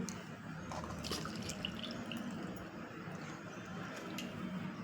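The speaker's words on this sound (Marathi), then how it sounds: "मग मी हे पाणी टाकत आहे" Water pours and splashes steadily into a pan for making wheat-flour halwa, a continuous liquid rush with small drips and clinks, close by, no talking.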